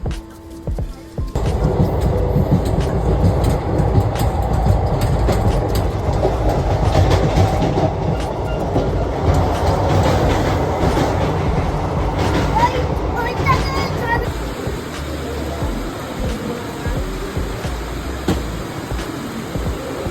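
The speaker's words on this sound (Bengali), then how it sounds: "এই আমাদের তিস্তা তোরসা এক্সপ্রেস" The Teesta Torsa Express rumbles steadily at a station during heavy rain, a close, loud rolling clatter of wagons that eases toward the end, with people talking over it.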